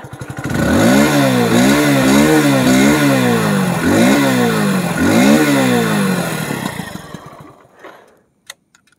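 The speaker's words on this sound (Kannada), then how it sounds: "ಸೊ ಎಕ್ಸಾಸ್ಟ್ ಸೌಂಡ್ ನಿಮಗೆ ಕೇಳ್ಕೊಳ್ಳಿ" A 100cc commuter motorcycle, Splendor-like, revs its exhaust repeatedly with rising and falling blips, loud and close, before the engine is cut and it falls quiet with a couple of small clicks.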